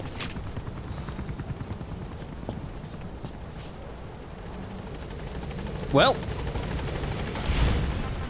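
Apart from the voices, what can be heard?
helicopter in video game Metal Gear Solid V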